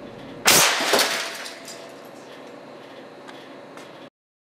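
An air cannon fires an 1100 grain slug at 350 psi into an inkjet printer, giving one sharp, loud blast followed by a short clattering, cracking impact that trails off into fainter rattles.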